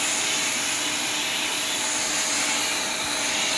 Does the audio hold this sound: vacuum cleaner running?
yes